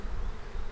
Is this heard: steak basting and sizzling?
no